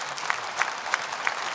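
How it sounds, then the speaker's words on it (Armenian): An audience claps steadily at a gala performance, a dense even patter of many hands with no voices over it. "Դուք ծափահարեք, իսկ մենք գնանք դեպի կանաչ սենյակ"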